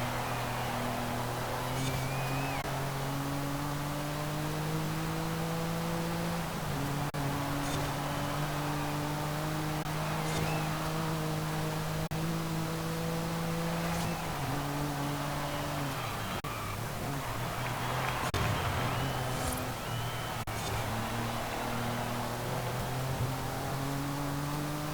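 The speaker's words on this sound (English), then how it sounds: "I'm just going to let you listen to the car for a little bit" A 2010 Porsche 911 Sport Classic in Forza Horizon 5 holds a steady, loud engine drone that climbs and drops with a few gear changes across the stretch, with no talking over it.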